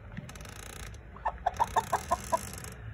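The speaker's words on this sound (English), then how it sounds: "Look at those chickens." Backyard chickens cluck in a quick run of about seven evenly spaced notes, moderately near, over a low background hum with faint scuffling beforehand.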